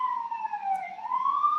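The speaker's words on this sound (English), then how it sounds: "Also, I'm sorry, that's an ambulance." A passing ambulance siren wails loud and close, its tone sliding down and then back up in one continuous sweep with no talking over it.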